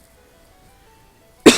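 A single sharp cough bursts out near and loud from a person with a sore throat, after a stretch of near silence with faint background tones.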